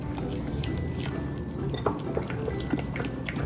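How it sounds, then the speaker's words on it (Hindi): Water trickles and drips steadily into idli batter as it is mixed by hand, a soft continuous liquid pour with small splashes in a kitchen. "पानी हम थोड़ा थोड़ा करके शामिल करेंगे और इसका बड़ा स्मूथ सा बैटर बना लेंगे"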